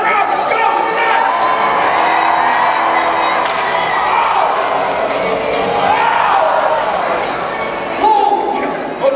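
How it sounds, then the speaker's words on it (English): A crowd at a live jousting show at the PNE cheers and shouts, with children's voices standing out in the mix and a few sharp cracks, while an announcer talks over the noise. "And the crowd goes nuts."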